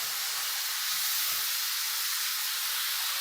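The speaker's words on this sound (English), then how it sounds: "We're going to get a lot of sizzling." Steady hissing sizzle of milk hitting a hot pan with kale, a continuous bright fizz throughout with no talking.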